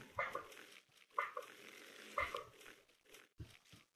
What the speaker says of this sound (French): Je suis en train de rouler sur un chien